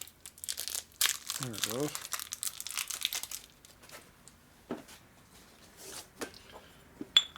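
Plastic wrapping crinkles and rustles loudly in bursts near the mic, in a workshop during a 1946 Harley-Davidson Knucklehead motor rebuild, with someone talking over it.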